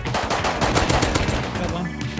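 Gunfire in the video game Rust, rapid automatic bursts of sharp shots firing in quick succession, loud and close, tapering off near the end.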